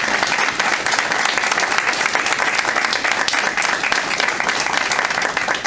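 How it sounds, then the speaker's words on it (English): An audience at a school board of education meeting applauds loudly and densely for several seconds, with a few voices in the crowd. "So I want to applaud everyone here tonight"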